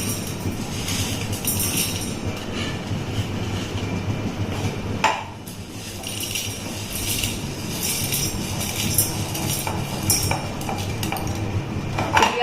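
Black peppercorns being ground in a kitchen grinder, a continuous dense rattling whir lasting throughout with a brief dip midway, heard alone.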